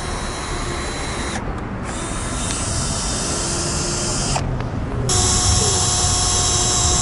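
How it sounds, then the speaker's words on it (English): A continuous high-pitched whine of a power drill running steadily as it pre-drills holes in wood, with two brief dips in pitch as it works. "pre-drill the holes with a drill bit"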